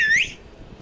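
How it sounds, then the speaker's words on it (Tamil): A whistle in a hide-and-seek video game: one bright, high whistle tone that sweeps slightly upward, loud for a fraction of a second and then fading out. "கிட்ட தானே கேட்குது விசில் சத்தம்."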